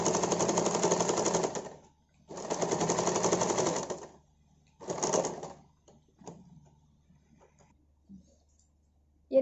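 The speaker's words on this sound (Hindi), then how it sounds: "ये देखिए हमारा ये सिलाई हो रहा है" A sewing machine stitches a cloth face mask in three bursts of rapid mechanical whirring, the first two long and the third shorter, each stopping in silence, followed by a few faint clicks and a soft knock at the end.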